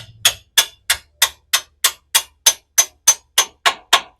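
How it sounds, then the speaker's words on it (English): A bolt on a Toyota 200 Series Land Cruiser's front suspension being tapped out with a hammer during a leveling kit install: twelve evenly spaced, sharp metallic taps at a steady rhythm, close and clear with no talk. "Take the nut off, and then you can gently tap it out."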